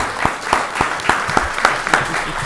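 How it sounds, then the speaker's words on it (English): A few people applaud after guests are thanked at a candidate event, giving sparse, distinct claps at an uneven rhythm over a low room murmur for a couple of seconds. "Let's give them a big round of applause."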